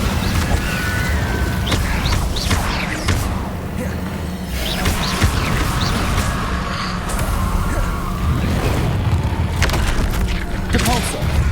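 Spell blasts from Hogwarts Legacy, including the Incendio fire spell: repeated booming, crackling bursts and thuds over steady game background noise, with a voice calling out spell names.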